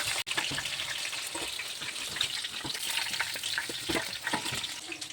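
Chicken pakoda pieces frying in hot oil, a steady broadband hiss and bubbling crackle that holds throughout, with one brief sharp pop near the start.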